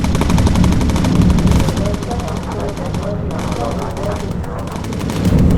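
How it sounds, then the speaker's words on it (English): Flak bursts around a World War II bomber in Bomber Crew, a steady rumble of rapid anti-aircraft fire under engine drone, while someone talks over it throughout. "We're going to go through this flak field right here"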